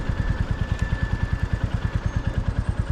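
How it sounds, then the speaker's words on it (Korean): Royal Enfield Interceptor 650 twin-cylinder engine running with a rapid, even thumping pulse close by, the beat steady and loud from start to finish. "처음 올라탄 2기통 엔진. 공기를 두드리는 그 소리, 그 진동의 맛은 지금도 참 설레는 느낌이 가득하다."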